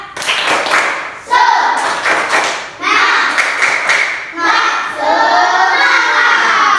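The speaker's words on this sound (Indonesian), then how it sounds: "Coba biar nggak ngantuk, tepuk semangat." Schoolchildren in a classroom doing a rhythmic spirit clap together, bursts of loud group clapping in patterned beats with children's voices shouting along between the claps.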